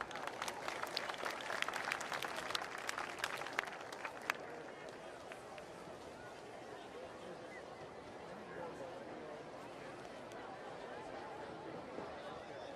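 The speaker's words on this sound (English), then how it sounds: "Let's have one more round of applause for all of our seniors in the football hall." Crowd at a varsity football game between Blue Valley Northwest and St. James Academy applauds the seniors, crisp clapping for the first few seconds that fades into murmuring crowd noise and distant chatter.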